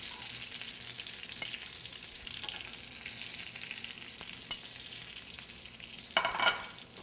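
Food frying in a pan and being turned produces a quiet, steady sizzle with a few sharp utensil taps and a louder scraping burst near the end.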